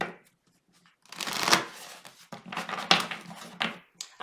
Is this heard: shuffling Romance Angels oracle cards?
yes